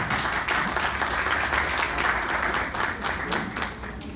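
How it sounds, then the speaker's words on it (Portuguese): Steady, dense applause from an audience at the opening ceremony of a public-sector union congress in Brasília, a continuous wash of many hands clapping at even loudness throughout. "Cadê os aplausos, pessoal?"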